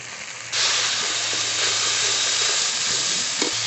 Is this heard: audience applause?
no